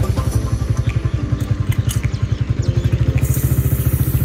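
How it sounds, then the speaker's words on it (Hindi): A motorcycle rides along a road, its engine thumping in a steady, fast rhythm close by, with wind noise and occasional clatter over it throughout. "आज हम बाइक पे जा रहे हैं"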